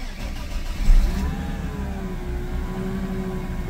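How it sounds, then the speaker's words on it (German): A car engine catches on a second start attempt, with a brief louder burst near the start before settling into a steady, moderately loud running hum with a faint rising whine. "Ich würde sagen, Auto läuft ganz gut."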